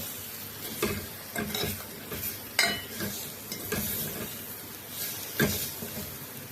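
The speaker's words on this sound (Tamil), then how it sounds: "மிளகு பூண்டெல்லாம் வாசனையாக நல்லா பாருங்கள் நல்லா பொரிஞ்சிட்டுது" Black pepper and garlic sizzle in oil in a pan for pepper rasam, with steady frying crackle and several scraping stirs of a spoon, close up with no voices.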